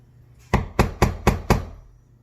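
Five sharp strikes in steady rhythm, about a quarter second apart, as a chisel is tapped to pare small pieces of wood around a carved body line for an Elven-style piece, close and alone with no talk.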